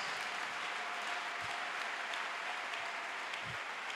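A church congregation applauds in praise of the Lord, a dense, steady wall of clapping that holds at an even loudness from start to finish.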